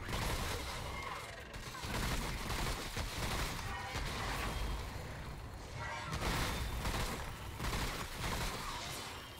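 Heavy, sustained gunfire and booming blasts fill a boss fight in the Remnant: From The Ashes game, loud and continuous in overlapping bursts, with a voice talking over the din.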